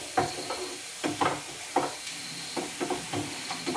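Garlic and ginger frying in a pan, a soft steady sizzle broken by repeated stirring scrapes in an uneven rhythm, close and fairly quiet, with no talking.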